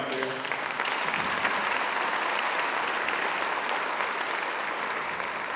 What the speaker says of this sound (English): you put an applause right there.